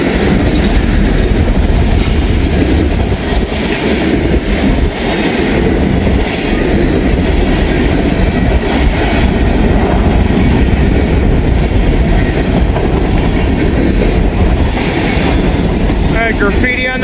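A fast train passes close by, loud and continuous with rumbling wheels, rail clatter and some wheel squeal throughout.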